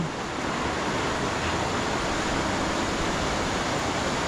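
Floodwater from the Sierra Madre mountains rushes past a wrecked bridge and culvert in a constant, dense roar of churning water that stays loud and unbroken throughout.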